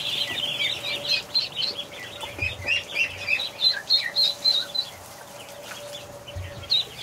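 Ducks calling at a hatchery, a steady run of rapid chirpy peeps and quacking calls over a faint constant hum, fairly close, with no talking.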